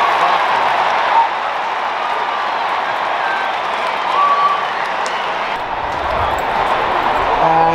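Stadium crowd at an Essendon versus St Kilda AFL match reacting to a goal, a steady dense roar of cheering and clapping that swells slightly and holds throughout, close and loud.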